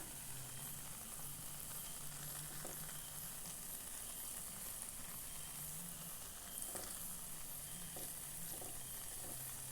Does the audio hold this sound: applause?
no